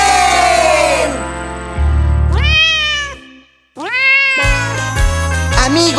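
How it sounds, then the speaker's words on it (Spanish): A cartoon-style cat from the Spanish-language children's show La Granja de Zenón meows loudly several times in a row, with long drawn-out cries and a brief pause midway, set against bright children's music and a faint jingle. "El gato hace miau."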